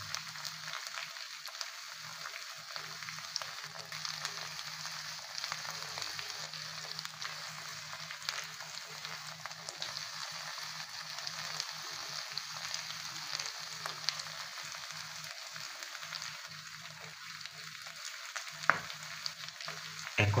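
Labeo calbasu fish frying in hot oil, a continuous dense sizzle with scattered crackling pops, steady and close for the whole stretch with no talk.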